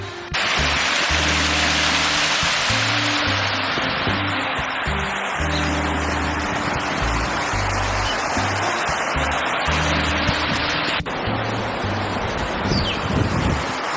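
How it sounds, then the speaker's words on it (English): A waterfall in San Cristobal canyon, Puerto Rico, gives a loud, continuous broadband roar. Wind buffets the microphone heavily throughout, and a brief thump cuts in near the end. "I'm assuming this is a waterfall."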